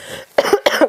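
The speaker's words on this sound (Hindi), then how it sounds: "खांसी बहुत ज्यादा आ रही है।" A teacher giving a biology lesson coughs twice, harsh and close, the two bursts quickly following one another with no speech.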